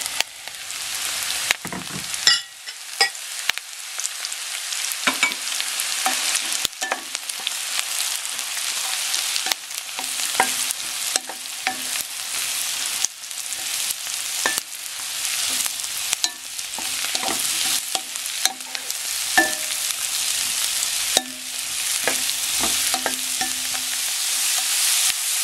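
Mushrooms and onions frying together in a pan for beef stroganoff, a steady close sizzle running the whole time, broken by scattered clicks and scrapes of stirring, with no talking.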